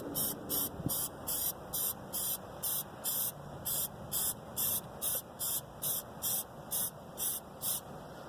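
Rhythmic bursts of a spray can or spray gun applying paint to a Honda Civic valve cover, about fifteen short even hisses at a steady pace, close and fairly quiet, with no talk.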